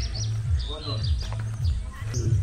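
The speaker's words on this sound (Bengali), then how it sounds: "আর চারিদিকে পাখি ডাকছে," Birds chirp and tweet in short, repeated calls in the background while a person talks over a low rumble.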